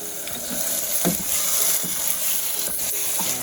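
A habanero pepper mixture for homemade hot sauce fries in hot oil with a steady, loud sizzle, broken by a few soft spoon scrapes and stirs.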